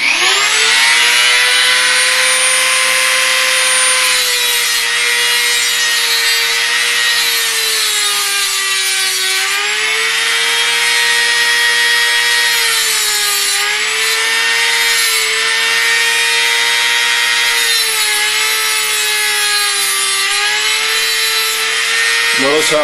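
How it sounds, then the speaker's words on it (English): A Dremel rotary tool's cutting wheel grinding through a lockpick blank, a continuous loud high-pitched whine with slight wavering pitch as small chunks are cut. "Notice how I cut small chunks rather than letting the wheel grind everything away."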